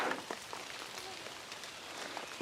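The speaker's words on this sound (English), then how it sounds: "The rain's starting to pick up again a little bit." Rain falling outdoors in an abandoned concrete city, a steady, soft broadband hiss of drops that holds evenly throughout, with no voices.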